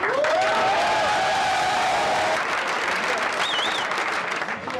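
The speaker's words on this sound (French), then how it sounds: "Je crois qu'on peut les applaudir très fort, Seb et Daniel, pour cette victoire" A crowd applauds steadily, with a few voices and a brief whistle-like tone rising above the clapping.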